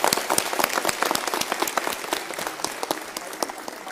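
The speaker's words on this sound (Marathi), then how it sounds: "सगळ्या पुरुषांनी आमच्या महिला भगिनींच्या स्वाभिमानासाठी जोरदार टाळ्या वाजवल्या पाहिजे" A crowd at a women's gathering in Jalgaon, Maharashtra claps hard, a loud close burst of many hands that carries on steadily throughout and tapers slightly toward the end.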